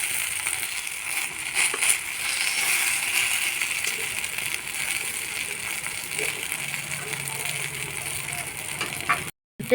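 Palm fruit fritters fry in oil, producing a steady close hiss of sizzling with faint crackles throughout, briefly cut off near the end.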